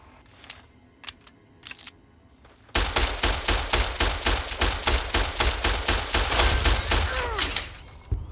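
Gunfire with armor-piercing rounds in Fallout New Vegas starts as a few scattered single shots. A loud, sustained rapid volley then runs to the end, with no talk over it.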